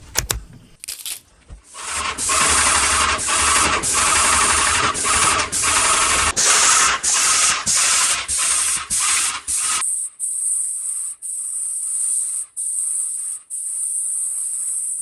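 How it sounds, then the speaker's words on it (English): Continuous loud hissing spray from a paint sprayer applying Sherwin-Williams waterproofing paint to basement walls, broken by brief pauses every second or so, close by, then a thinner steady hiss near the end. "We are spraying 2 coats of Sherwin-Williams waterproofing paint to the walls."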